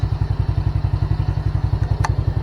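Honda Supra motorcycle engine idling after a restart, a steady loud low putter with even rapid pulses and a brief mechanical tick near the end.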